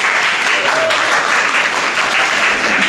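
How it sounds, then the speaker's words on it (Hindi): Audience applause in a school student competition, honoring the 9th–10th grade winner Nidhi: a dense, steady wash of clapping from a crowd that runs unbroken and fairly loud throughout, with faint voices mixed in. "एक बार तालियां बजाइए निधि के लिए आप लोग"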